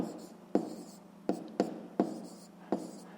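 Pen strokes on paper during a fifth-grade math lesson, five or six short scratchy bursts at an uneven rhythm, close and quiet, with no talking.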